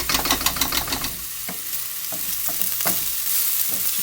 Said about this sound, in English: Once you hear this sizzling and come together